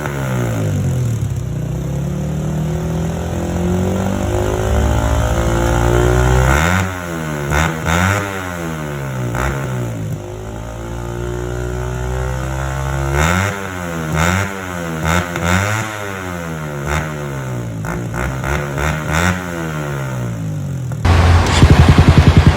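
A Bilane GP2 exhaust with silencer on an underbone motorcycle revs repeatedly from a steady idle, rising and falling in loud, close blips, with a sharper burst near the end.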